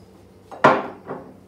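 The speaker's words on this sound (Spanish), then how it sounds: "lo que va a ir haciendo es cortar en rodajas la patata" A knife cuts through a potato into rounds during preparation of potatoes in green sauce: one sharp, close cut followed by a fainter second tap against the board.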